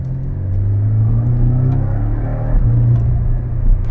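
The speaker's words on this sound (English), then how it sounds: "Let's have a listen to this flat four symphony" A loud, deep rumble from a 2020 Porsche 718 Cayman's 2.0-litre flat-four engine, with a steady low drone, echoing inside a tunnel, rising slightly with acceleration.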